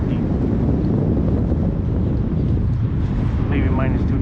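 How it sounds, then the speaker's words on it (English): Strong wind gusts of around 32 mph at Spoon Lake during a fishing trip roar steadily across the microphone, a loud, constant buffeting rumble with no pauses. "the wind is suckage"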